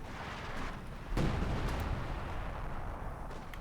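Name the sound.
artillery strike in video game Company of Heroes 2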